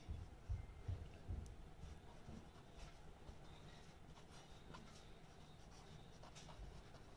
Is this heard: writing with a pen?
yes